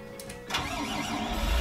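A Fendt tractor in Farming Simulator 19 cranks and its engine catches, rising from a brief starter whir into a steady, close mid-pitched idle rumble.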